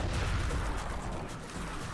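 Dense, continuous rumbling blasts of cannon fire in Serious Sam's Bogus Detour, loud and sustained with no pauses, heavy low booms layered with noisy crackle.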